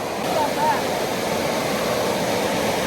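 Waterfall at a flooded, overflowing pond gives a steady, broad rushing roar close by, continuous throughout with faint voices under it.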